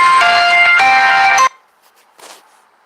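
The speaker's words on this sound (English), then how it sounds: "That's my son ringing the doorbell" A household doorbell rings with a bright electronic chime lasting about a second and a half, then cuts off abruptly, followed by near silence and a faint short rustle.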